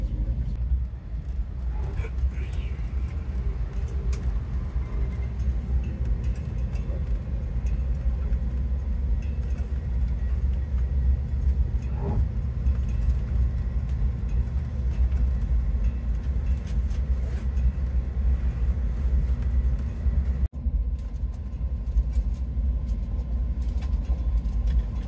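Amtrak 2251 running on the Northeast Corridor in fog along the Connecticut coast: a continuous low rumble of rolling rail cars heard from inside, with occasional clicks and faint voices.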